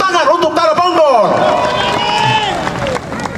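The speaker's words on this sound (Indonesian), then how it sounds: "Tepuk tangan untuk Tanah Bonggol." Crowd at an Indonesian presidential campaign rally in North Sumatra claps and cheers loudly throughout, dense close applause mixed with shouting voices and babble.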